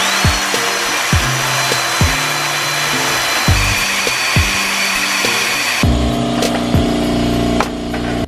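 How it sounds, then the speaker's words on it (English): Power drill boring a hole to mount a D2 air strut during an air suspension install on a Mazda Miata, whirring steadily at close range with repeated sharp knocks and a shift in pitch near the end. "And there is hole number 2."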